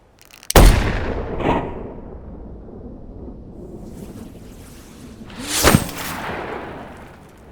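A rifle shot cracks sharply and is followed by a rolling boom as it hits a paint bucket target. A second loud blast comes a few seconds later, each fading into a windy, open-air rumble.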